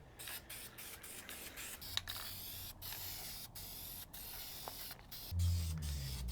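Spray gun laying a wet coat of paint on 1.9L ALH engine parts: a steady, close hiss runs throughout, broken by short pauses between passes and swelling louder near the end.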